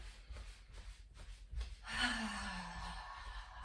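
A slow breath during a guided relaxation breathing exercise, in through the nose and out through the mouth: quiet and close, swelling into one long, airy exhale in the second half, with no talking.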